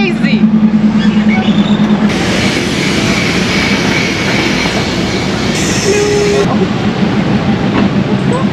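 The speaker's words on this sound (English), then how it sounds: "Train's coming." A train rolls slowly through the Maeklong Railway Market in Thailand, with a loud continuous rumble of rail cars close by, squealing wheels and rhythmic clacking over the tracks, and crowd noise around it.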